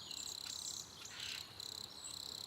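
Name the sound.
crickets chirping sound effect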